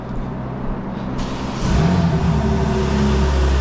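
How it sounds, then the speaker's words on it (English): A BMW engine cold-starts with its exhaust valves closed, a steady idle hum that jumps into a louder, fuller rumble partway through, close and continuous with no talk. "let's give it a cold start, see what it sounds like"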